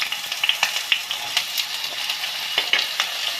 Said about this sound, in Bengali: পনির তুলে নেওয়ার পর কড়াইয়ে যে তেলটা রয়েছে তার মধ্যে আমি ছেড়ে দিলাম আলুগুলো।